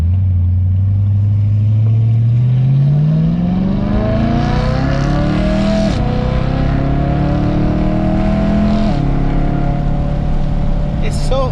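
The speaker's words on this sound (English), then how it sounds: "Blips on the downshift are probably my favorite on this car." A 2008 BMW M3 E92 V8 engine revs loudly and climbs through the gears, with sharp throttle blips on the downshifts heard up close throughout.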